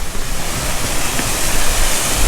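A Shenandoah waterfall roars in a steady, dense rush of broadband water noise right beside a trail, loud and continuous with no voices.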